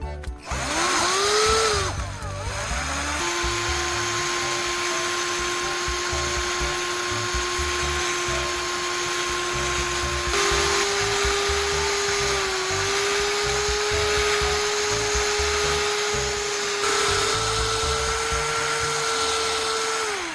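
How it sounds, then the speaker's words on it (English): An electric drill mixer blends a styrofoam paste with a loud, steady whine that starts up, dips once and then holds a constant pitch. A faint churning runs underneath, close up, with no talk. "Instead of mixing by hand, I'll use a drill mixer."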